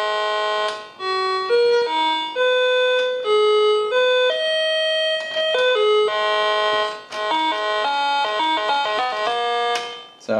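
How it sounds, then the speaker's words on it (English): Cheap toy piano on its organ voice plays a sequence of bright, sustained electronic tones, notes held and changing in a simple melody, loud and close with no talking. "if I switch to the organ sound, which is, well, the exact same sound, but with a different envelope."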